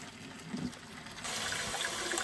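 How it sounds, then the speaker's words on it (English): Water being poured out of a bowl of soaking saltfish runs in a soft, steady splashing stream that swells louder partway through, faint and close, with no talking. "pouring this water out again"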